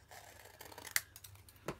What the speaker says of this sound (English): And just cut the edge off.